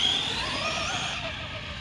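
Arrma Big Rock 3s BLX brushless RC truck running, with a brief, steady high electric motor whine and faint rumbling underneath.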